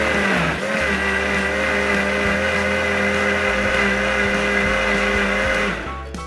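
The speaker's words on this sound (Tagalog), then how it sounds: "At ready na po natin to ilagay sa blender." A blender whirs steadily as it mixes a bread pudding batter of bread and a pinch of salt, loud and continuous with no talk, then cuts off at the very end.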